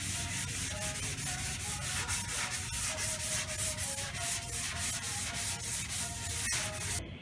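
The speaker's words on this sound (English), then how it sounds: "We're going to knock the top of the guide coat off with 180 on a flexible block." Guide coat being sanded with 180-grit paper on a flexible block over a car quarter panel: a steady, close rhythmic scrubbing of repeated strokes with no talking.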